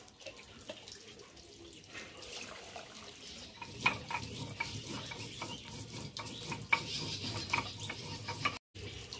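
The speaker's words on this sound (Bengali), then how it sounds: "চালটা ধোয়া হয়ে গেছে।" Rice being rinsed by hand in a basin of water for pulao, with steady sloshing and swishing, faint tap-like running water and occasional light clinks of the vessel, fairly quiet and close.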